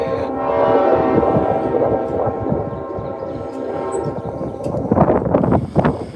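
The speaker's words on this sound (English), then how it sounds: "The train. It's down at the bottom of the village." A train passes down at the bottom of a mountain village, its sustained horn-like drone rising and holding, then fading into rumbling, clattering wagons toward the end, heard from a distance outdoors.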